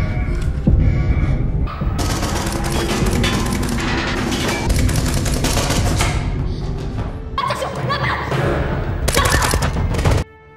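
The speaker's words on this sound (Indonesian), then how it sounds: "Aksi saling tembak terjadi" Heavy gunfire is exchanged in an action film scene. Dense rapid bursts and booming shots run loud and nearly continuous over a low throbbing hum, with a brief shift in intensity partway through.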